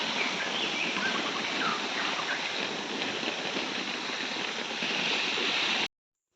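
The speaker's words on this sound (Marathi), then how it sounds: "तर आता मी सध्या घराला पाणी मारतोय, सर्वीकडे पाणी मारलं आणि पाणी मारतोय" Water sprayed over a house under construction, a steady, dense hiss and splatter close by that runs evenly for several seconds before cutting off abruptly, with no talk.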